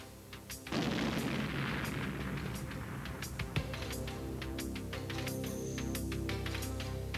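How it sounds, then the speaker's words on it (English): A non-nuclear cruise missile detonates above its target with a sudden loud blast, followed by sustained rumbling and crackling debris with scattered sharp pops, heard without talk. "Notice as this non-nuclear cruise missile flying high and fast over the target will destroy the target without even hitting"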